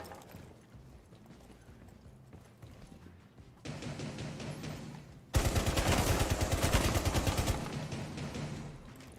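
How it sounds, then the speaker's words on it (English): A shotgun fires in the tactical shooter Rainbow Six Siege: after quieter muffled game noise, a loud close run of rapid, evenly spaced blasts erupts, then cuts off abruptly. "That's a shotgun."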